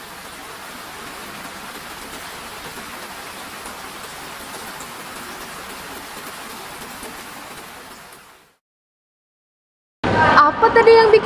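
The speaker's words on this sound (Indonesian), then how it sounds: "kayaknya hujan deh" Steady rain falls outdoors as a continuous, even hiss of drops for about eight seconds and then cuts off. After a short silence, loud unrelated sound starts.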